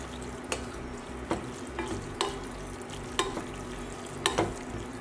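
A utensil stirs charred broccoli and shiitake mushrooms with teriyaki in a sizzling pan. Its scrapes and taps come at a loose, irregular rhythm over a constant frying hiss.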